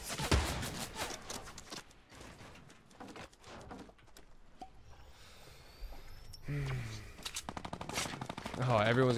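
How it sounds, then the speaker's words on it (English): Minigun fire in Fortnite Battle Royale during a solo versus squads match: bursts of rapid automatic gunfire, loudest at the start and again toward the end, mixed with other game sounds and someone talking. "Oh, everyone's got a fucking minigun,"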